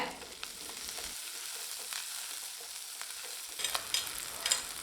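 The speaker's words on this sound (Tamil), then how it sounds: "காரத்துக்கு மூணு பச்சை மிளகாய் சிறிதளவு கருவேப்பிலை இதை நல்லா வதக்கி விட்டுக்கலாங்க" Onion, green chillies and curry leaves sauté in a hot pan, a steady close sizzle with scraping stir strokes and a few sharper crackles near the end, no voices.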